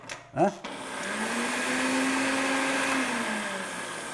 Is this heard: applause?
no